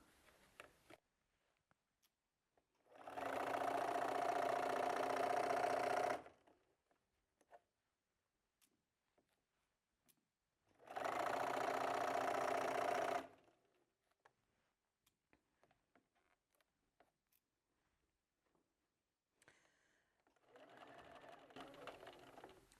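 A sewing machine stitches binding onto a quilt in two steady runs of fast, even whirring, each lasting a few seconds with quiet gaps between them, then starts again softly at the end.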